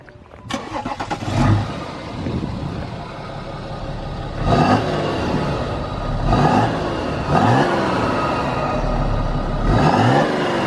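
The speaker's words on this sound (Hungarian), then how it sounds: "6 hengeres motor, dízelmotor." A BMW F10 six-cylinder diesel engine revs repeatedly in several rising bursts, each winding up and settling back to a steady idle, loud and close.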